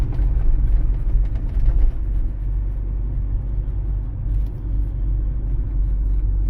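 A car driving on a city street during a driving exam, a steady low engine and road rumble from inside the cabin, loud and continuous with slight dips, no talk.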